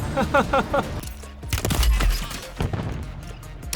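Gunfire in the Warzone video game: a rapid burst of shots followed by heavy thumps and scattered impacts, loud and close, with a few more shots near the end.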